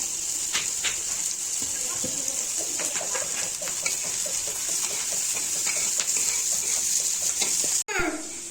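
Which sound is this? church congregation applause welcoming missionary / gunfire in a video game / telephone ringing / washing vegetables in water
washing vegetables in water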